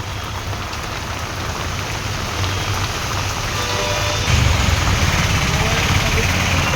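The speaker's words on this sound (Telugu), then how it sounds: "వర్షం అయితే భారీ వర్షం పడుతుందబ్బా తిరుపతిలో" Heavy rain pouring in Tirupati, a dense steady roar of drops on surfaces that grows heavier partway through, with a low rumble of traffic underneath.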